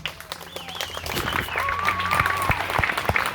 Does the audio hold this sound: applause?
yes